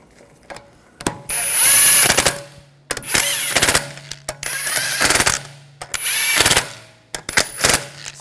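Impact gun on a 2009-2013 BMW 328i snugging rear wheel lug bolts, in four loud rattling bursts of a second or so each, separated by short pauses and clicks.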